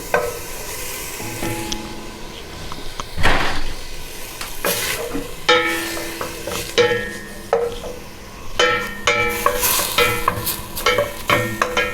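Chicken frames lightly searing in a pan in their own fat, with a steady sizzle broken by repeated scraping and stirring clatter of a utensil against the pan, close and fairly loud.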